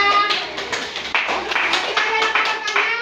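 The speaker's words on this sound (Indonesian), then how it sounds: "kita beri tepuk tangan dulu untuk kelompok 3" A school class claps for a student group after its presentation: brisk, uneven hand claps from many children at close range, steady and fairly loud for about three seconds.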